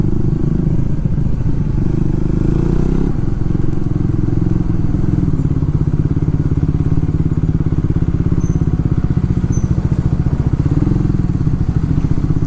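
A Triumph Tracker 400 motorcycle rolling at low speed on a test ride, its engine giving a steady, close, throbbing putter with a faint rise in revs, and no voices heard.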